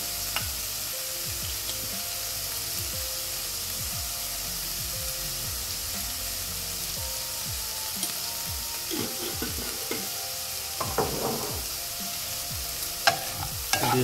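Beans with turmeric and salt fry in a pan under a steady hiss while a spoon stirs in quick repeated scrapes and taps, close and moderately loud, no speech.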